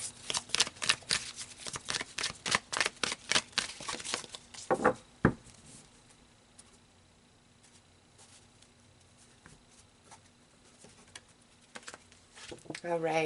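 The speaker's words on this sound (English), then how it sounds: "So let's pull some outcome and advice cards." Tarot cards are shuffled up close in a run of quick riffling snaps that stops before the five-second mark, then a near-silent stretch and a brief rustle at the end.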